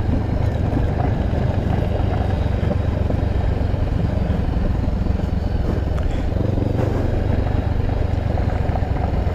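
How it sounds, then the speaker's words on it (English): A Honda CB500X motorcycle rides over gravel, with a steady engine drone and constant rough rumble from the tires, close and continuous under wind noise. "I'm not liking these tires on gravel at all."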